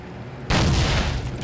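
A sudden loud blast from a hand cannon in the video game Soldier of Fortune erupts after a brief lull, followed by a rumbling, crackling tail.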